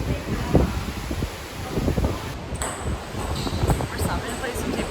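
Strong wind gusts on a Bahamas trip buffet the microphone with a loud, rumbling roar that rises and falls throughout, with a few faint high pings later on.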